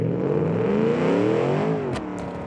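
A simulated car engine in the BeamNG driving game revs steadily and loudly, its pitch climbing smoothly and then dropping off near the end as the throttle eases, with no talking over it.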